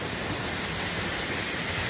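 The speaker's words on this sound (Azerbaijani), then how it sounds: "Dağlarda şəlalə." A mountain waterfall in Azerbaijan, a constant, even rushing roar of falling water that fills the scene with no break and no voices.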